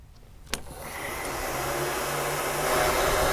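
A hot-air blower, such as a home hair dryer, runs after a brief click and shrinks heat-shrink tubing on a 229 plug cable, making a steady, close whooshing hiss that builds slightly.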